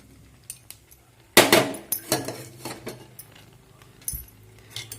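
Soaked poha is stirred into a pot with a spoon, giving a run of close metallic scrapes and clinks, one louder clatter followed by several lighter knocks against the pot.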